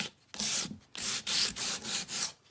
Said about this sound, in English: I'm going to take my sanding sponge and I'm just going to hit it